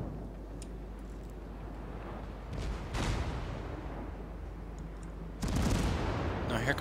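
Naval guns fire in the video game World of Warships during an engagement with a battleship, heard as faint, distant booming salvos with a stronger burst near the end over a low rumble.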